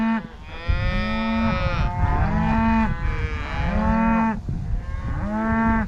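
Cattle on a ranch, a cow and her calf, moo repeatedly in loud, drawn-out overlapping calls, several bellows in quick succession close by with a steady low rumble beneath.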